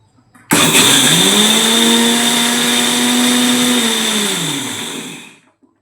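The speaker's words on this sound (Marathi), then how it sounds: "आणि ह्याला आता फिरवून घेऊया एकदम बारीक।" A mixer grinder whirs loudly as it grinds ghavane rice batter with a little water, starting abruptly, holding a steady high motor whine for about five seconds, then winding down.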